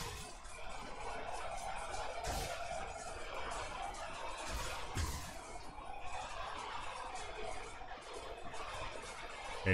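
In a video game battle, T-Rexes slaughter thousands of chickens, producing a dense, continuous din of clucking and gobbling fowl with scattered heavy thumps and crashes.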